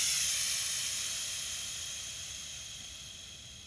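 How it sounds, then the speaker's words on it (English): Pressurized air hisses steadily out of an FX Impact air rifle's regulator as the adjuster is turned counterclockwise, a loud, even rush that slowly fades over several seconds with no talking. "Gradually turn it counterclockwise. It's going to relieve the pressure on the regulator side."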